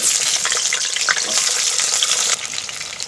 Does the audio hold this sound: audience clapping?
no